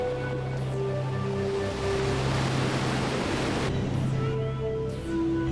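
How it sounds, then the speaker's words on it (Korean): Stormy sea waves churn in the East Sea off Korea, a dense, loud roar of surf and wind that swells slightly midway, with faint steady tones in the background. "동해바다에 폭풍우가 몰아쳤다"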